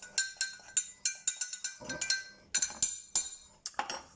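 A spoon clinks repeatedly against a cooking pot as a crumbled vegetable or meat stock cube is stirred in for pork ribs, chorizo and potatoes, giving a steady run of close, sharp metallic taps with no talking.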